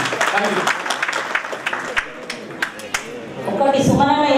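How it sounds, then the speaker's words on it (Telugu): An audience applauds at an International Women's Day celebration held at a district collectorate, with steady, fairly close clapping that gives way to a voice speaking toward the end. "ఒకసారి గట్టిగా చప్పట్లతో అందరూ అభినందించవలసిందిగా కోరుతున్నాను"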